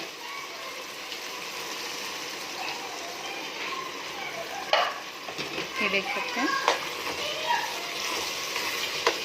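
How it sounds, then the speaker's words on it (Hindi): Water is poured into a pan of cooking potato and cauliflower curry, making a sizzling, gushing splash over steady frying, with someone talking briefly. "अब हम इसमें ऐड करेंगे पानी।"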